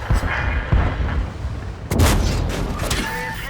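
Tank cannon fire in the World of Tanks game during a T34/85 battle, with heavy booming shots and rumbling impacts, one near two seconds, over constant engine and battle noise.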